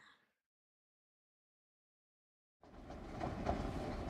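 A train passes in the Infinity Nikki video game, rolling in suddenly after a stretch of near silence as a steady rumble with faint rhythmic clatter, moderately quiet and continuing to the end.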